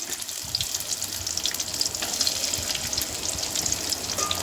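Onions sauté in hot oil with cumin seeds, a steady hissing fry up close with soft bubbling crackle throughout.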